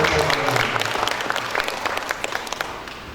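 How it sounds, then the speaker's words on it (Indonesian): A large crowd of members at a community security group gathering in Palmerah, Jakarta, applauds with steady, dense clapping that gradually fades, with no one talking over it. "Tepuk tangan mulia buat anggota Citra Bayangkara se-Kecamatan Palmera"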